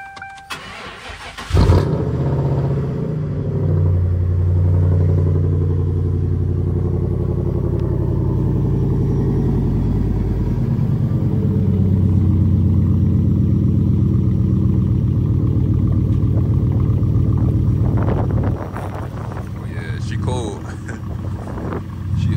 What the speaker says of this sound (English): So let's get this cold start.